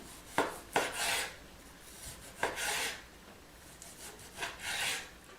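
Beef sliced thinly across the grain with a knife on a cutting board, a series of soft rasping strokes with light blade taps, close and quiet with no voices.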